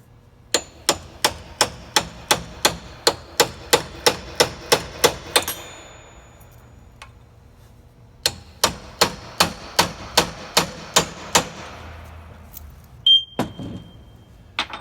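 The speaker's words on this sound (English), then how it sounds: "we're going to use that ball peen hammer" A ball peen hammer strikes metal on a wheelchair lift in a quick steady run of sharp clangs, about a dozen, then a pause, then another similar run of ringing blows.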